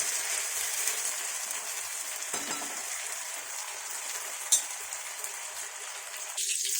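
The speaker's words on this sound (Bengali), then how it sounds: "খুব বেশি শক্ত করে ভাজবো না হালকা একটু ভেজে নেবো একটু একটু হালকা লাল হলে আমি এটাকে ভেজে নেব" Paneer pieces fry lightly in oil in a pan with a soft, steady crackling sizzle, a brief clink midway and a louder utensil noise near the end, no voices.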